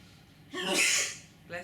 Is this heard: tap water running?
no